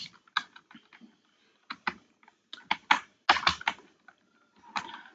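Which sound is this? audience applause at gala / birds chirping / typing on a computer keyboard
typing on a computer keyboard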